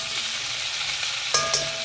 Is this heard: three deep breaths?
no